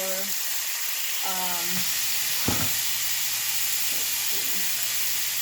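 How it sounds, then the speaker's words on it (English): Meat browning in a pan alongside peppers and onions for fried tacos, a steady broadband sizzle running throughout with a few stirring scrapes and a voice talking over it. "I'm going to go ahead and let my meat get brown"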